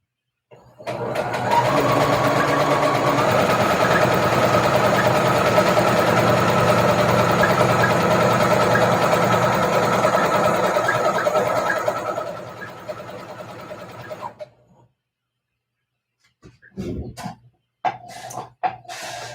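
A sewing machine stitching a channel on a tutu hums in one long, steady run of about twelve seconds, then winds down. A few brief clicks and handling noises follow.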